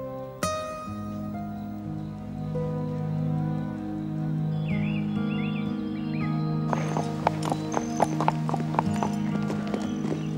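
Horse hooves clip-clop over a steady musical score in a French animated equestrian series, the regular hoof beats growing sharper and more distinct in the second half.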